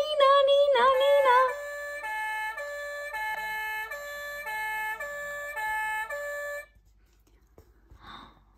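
A toy fire engine gives off a loud electronic two-tone siren that alternates in a steady, repeating pattern for several seconds, then stops abruptly, leaving only faint sounds.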